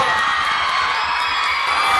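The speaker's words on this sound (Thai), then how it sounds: "ขอเสียงกรี๊ดนะกับทูพีเอ็มนะ" A crowd at a 2PM press conference in Bangkok shrieks and cheers continuously, a dense, high wash of excited voices with no pauses.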